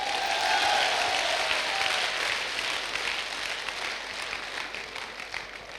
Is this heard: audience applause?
yes